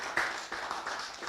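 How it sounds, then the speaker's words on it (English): Faint applause for a speaker at an outdoor community forum on hard courts, soft scattered clapping heard from a distance and lasting only a moment. "So we just have a round of applause for Jemiah."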